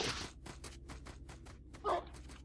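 A dog whimpers with a short yelp in S.T.A.L.K.E.R. Lost Alpha, over fast rhythmic thudding footsteps in a brief, close burst.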